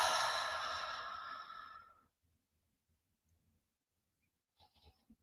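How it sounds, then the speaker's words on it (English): A deep breath slowly exhaled during a calm prayer and meditation, a long airy breathy rush fading out over about two seconds, close and alone, then near silence with faint soft noises. "just begin by taking a deep breath in. And as you exhale"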